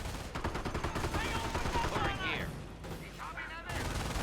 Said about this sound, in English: And a lot of suppressive fire coming from SituationReborn in the middle, in the house.